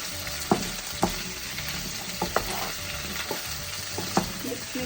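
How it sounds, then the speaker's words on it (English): Mixed vegetables fry and sizzle in a pan over a medium flame, giving a steady close hiss punctuated by periodic scrapes and taps as they are stirred. "I'm gonna mix it well and cook it for some time, and I'm gonna cook it in low flame"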